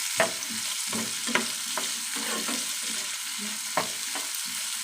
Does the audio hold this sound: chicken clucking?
no